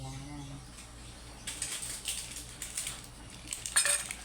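Metal lid set onto a pot of cooking vegetables, a few light clinks and scrapes of metal on metal ending in a sharper clatter, close and fairly quiet.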